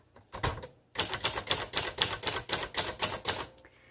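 Typing on a 1957 Royal Aristocrat manual typewriter: a few sharp keystrokes, a short pause, then a fast steady run of crisp, loud clacks at close range, ending in a softer tail. No voices.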